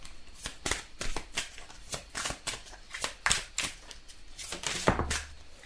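Tarot cards are handled and laid out on a table in a run of quick, close, crisp snaps and slaps, uneven but steady, each card a sharp flick against a quiet background.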